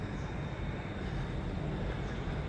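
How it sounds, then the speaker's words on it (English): A train pulls out of Phra Khanong station in Bangkok, a loud, continuous low rumble and rushing roar close by, filling the whole moment without any talk. "And that is the train leaving Phra Khanong."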